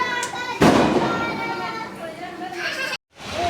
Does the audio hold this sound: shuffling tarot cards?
no